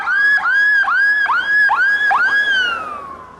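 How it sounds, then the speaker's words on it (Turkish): An ambulance siren in Hatay after a strong earthquake wails loudly and close by, repeating rising-and-falling yelps about every half second before fading slightly at the end. "ihbar geldikçe sirenlerini yakarak bu bölge"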